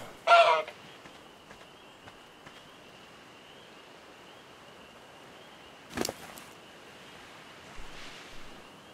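A dodo bird in the video game Ark Survival Evolved gives a short squawking call near the start, with a later sharp hit and a fainter cry over a steady ambient wash of surf-like background.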